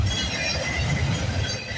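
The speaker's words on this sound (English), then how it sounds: "Oh, we're getting CSX." A CSX freight train rolling past at a railfanning spot at Bayview Road, a continuous rumbling, windy roar of wheels and cars at close range with no talking.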